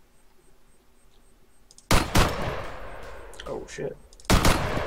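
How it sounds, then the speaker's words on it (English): Gunfire from the Arma 3 video game in a team deathmatch: two sharp, loud shots, a few seconds apart, each breaking a quiet lull. A voice briefly exclaims in between. "I just shot that guy in the back twice and his buddy turned around and shot me."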